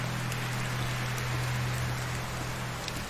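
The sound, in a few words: rain in the video game Medieval Dynasty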